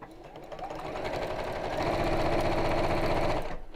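Sewing machine stitching a ribbon seam in a close, steady run of rapid mechanical needle strokes that builds up and then stops abruptly at the end.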